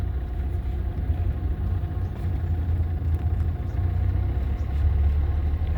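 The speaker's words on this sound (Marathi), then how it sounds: "हळूहळू क्लच सोडायचा फर्स्ट गिअरमध्ये, घाई करायची नाही." A car pulling away slowly in first gear gives a steady, close low engine rumble that hums continuously with no other sounds.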